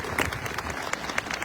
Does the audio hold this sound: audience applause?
yes